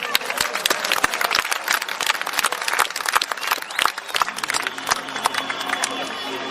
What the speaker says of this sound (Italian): Un applauso a Teodoro Manca.